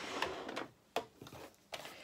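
Sewing machine running a straight seam through thick, layered fabric for a stuffed donkey head, heard as short mechanical bursts with pauses between them and no talking.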